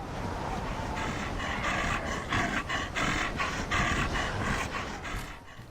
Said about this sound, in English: If you get fed up of being chased by panting beasts that want to butcher you in Horde mode